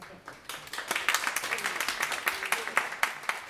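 A concert audience applauds after a band's rock set, a steady patter of many hands clapping at moderate distance, fairly even throughout.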